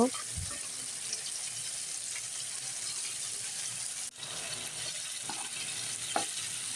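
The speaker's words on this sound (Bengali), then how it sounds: "এখন কষানো মশলাটাতে পাবদা মাছগুলো দিয়ে দিব" Pabda fish going into a pan of cooked-down onion masala for a Bengali butterfish dopiaza, a soft steady sizzle with a brief clatter at the start, faint and continuous.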